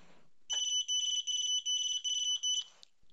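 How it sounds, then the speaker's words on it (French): A radio receiver beeps after pairing with its transmitter: a series of about six shrill, evenly spaced electronic tones, close and clear, followed by a brief faint click. "Le récepteur clignote et sonne."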